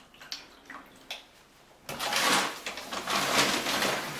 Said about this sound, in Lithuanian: Nusipilam švaraus vandens.